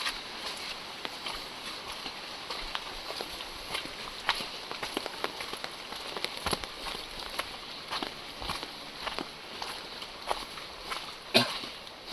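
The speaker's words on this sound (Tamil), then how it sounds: "மழை எப்படின்னு பார்த்தீங்கன்னா இங்கே பெய்யுது நிற்கிது பெய்யுது நிற்கிது" Rain falling in the hills of Paithalmala, Kannur, in northern Kerala comes as a steady hiss with scattered close drips and taps striking nearby surfaces, fairly soft and without voices.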